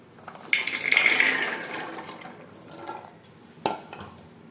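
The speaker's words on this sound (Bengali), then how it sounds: "আর দিয়ে দেব পরিমাণ মতো জল" Water poured into a cooking pot over washed chickpeas, a bright gushing splash for about a second that tapers off, followed by a few soft knocks of the pot nearby, with no talking.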